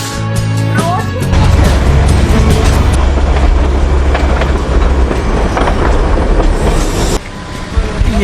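Darjeeling toy train on the narrow-gauge line rumbling loudly and steadily on its rails, with a continuous clatter of wheels and bogies close by, someone talking over the noise throughout.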